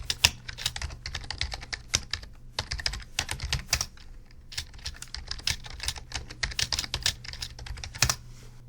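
Fingers type a login email and password on a computer keyboard, a steady close patter of key clicks with brief pauses, the spacebar or enter thumping now and then, and no voice.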